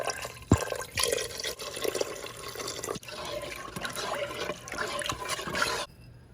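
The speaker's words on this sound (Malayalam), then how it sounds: "ഇതിലേക്ക് ഉരുക്കി അരിച്ചു വച്ചിരിക്കുന്ന ശർക്കരപ്പാൻ ചേർക്കാം" Melted, strained jaggery syrup pours into a new pot for pesaha appam, a close, continuous liquid splash and gurgle with a few small knocks, ending abruptly.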